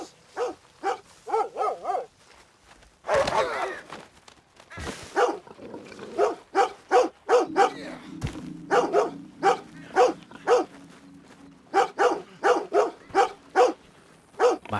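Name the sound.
dog barking in the video game Red Dead Redemption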